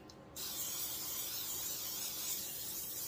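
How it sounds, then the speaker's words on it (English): A steady hiss of aerosol cooking spray into a baking dish for mac and cheese, one continuous burst lasting a few seconds, close by and fairly quiet. "I'm going to give it a good little spray"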